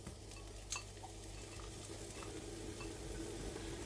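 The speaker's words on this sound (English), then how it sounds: "I've got some oil in the pan and I'm going to add in the onions and just let them start softening" Onions softening in hot oil in a pan, a soft continuous sizzle with an occasional light clink of a utensil, heard alone.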